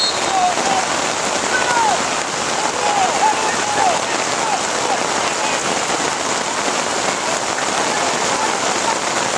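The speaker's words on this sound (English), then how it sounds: "Listen to the sound of this rain hit my umbrella." Heavy rain drums on an umbrella at an under-13 soccer match, a loud, dense and steady patter right overhead, with faint distant voices and calls from the field underneath.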